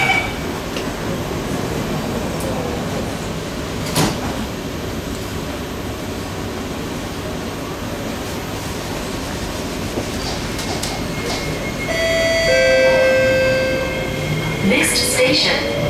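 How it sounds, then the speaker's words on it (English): An SMRT C151C Kawasaki-CRRC Sifang EMU train closes its doors and departs between Bukit Batok and Choa Chu Kang, giving a steady rolling rumble with a door chime and a rising motor whine near the end. "doors are closing."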